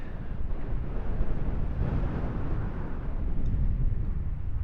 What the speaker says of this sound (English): a little bit windy, but nice and sunny